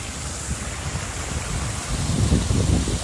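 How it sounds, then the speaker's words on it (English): A small waterfall in a Detroit city park, near a little bridge, gives a steady rushing and splashing wash of water, close and fairly loud, with some wind buffeting the microphone and swelling slightly toward the end. "they got the little water falling right here"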